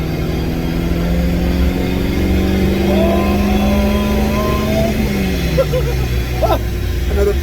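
Citroen AX GT 16v engine on a rolling road dyno, a loud sustained rev that climbs steadily then drops away, with a droning roar filling the space.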